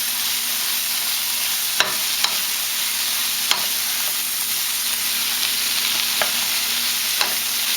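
Greens stirred through a hot pot with onions and peppers, a steady broadband sizzle and hiss running throughout, broken by a few sharp scraping clicks of the utensil against the pot.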